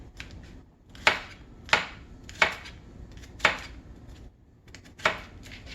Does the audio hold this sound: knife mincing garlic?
yes